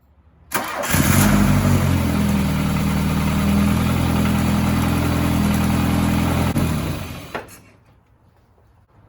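A 1980 VW Rabbit Convertible engine cranks and catches, then idles steadily up close for about six seconds before being shut off and fading to quiet.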